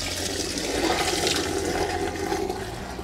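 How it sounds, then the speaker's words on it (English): Contents of a Thetford toilet cassette from a motorhome or caravan being poured out at a plastic chemical toilet disposal point, a loud rushing, gurgling gush of liquid that swells and then eases, with no talking. "Right, so we'll empty the cassette."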